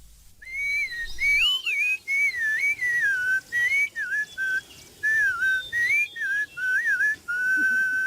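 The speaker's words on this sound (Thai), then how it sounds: "เสียงผิวปากของเด็กเลี้ยงแพะที่สอดผสานกันอย่างลงตัว" Several goat herders whistling melodic, wavering phrases in short bursts, overlapping at times, clear and fairly close with a quiet outdoor background in the Himalayan mountains.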